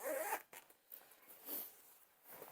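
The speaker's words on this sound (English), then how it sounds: "You do need to use a little bit of force to get this open, because it is a little stiffer because of the water sealed on the zipper" A stiff, water-sealed zipper on a Boundary Supply Rennen tote bag is tugged open in several short, rasping pulls, close and quiet.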